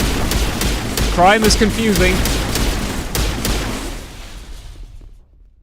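Rapid bursts of explosions and gunfire-like cracks from a Star Trek video game fill the first few seconds and then fade out, with a voice talking over the din.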